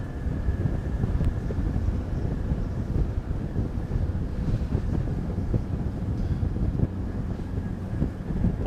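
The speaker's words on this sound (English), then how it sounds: "I'm fighting against the wind, everyone." Wind buffeting the microphone aboard a speeding ferry, a loud continuous low rumble and roar with steady gusting texture and no talk.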